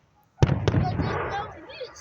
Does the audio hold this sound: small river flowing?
no